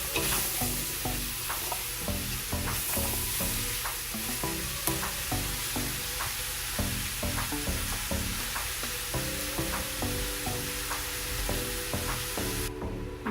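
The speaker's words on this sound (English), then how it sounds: "I'm going to give it a good stir" A pot of butternut squash and potato chickpea stew is stirred, a steady run of wet scraping and clinking from a spoon moving against the pot, close and continuous, with quiet simmering underneath and no talking.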